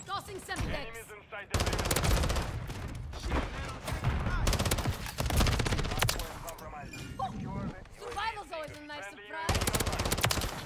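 MP7 submachine gun fire in Call of Duty Modern Warfare 3 bursts out in rapid automatic volleys on a small map, loud and close, broken by short pauses and other game sounds.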